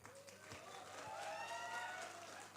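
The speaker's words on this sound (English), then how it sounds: "give a round of applause for them" Indoor audience applause at a cancer awareness medical education event in Bengaluru, a soft continuous wash of clapping heard a little distant, with tonal sounds and faint voices mixed in.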